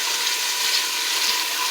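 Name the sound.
stirring spaghetti sauce in a pot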